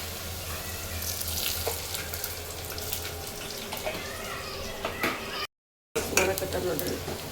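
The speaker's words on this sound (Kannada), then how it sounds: "ಎಲ್ಲ ರೆಡಿ ಮಾಡ್ಕೊಂಡಾರ ಒಗ್ಗರಣೆ ಕೊಡಾಕ." Tempering spices (oggarane) sizzling in hot oil, a steady close frying hiss with faint stirring clatter throughout and one brief dropout near the end.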